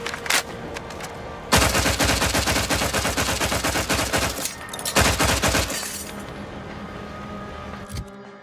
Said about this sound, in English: It's not a burst. It is just a fully automatic weapon.